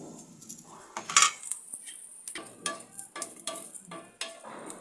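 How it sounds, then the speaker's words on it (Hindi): Garlic and green chilies frying in a pan for ridge gourd chutney, soft sizzle punctuated by repeated spoon scrapes and clanks against the metal, close and rhythmic, no voices. "लहसुन मिर्ची दोनों साथ में भून लेंगे"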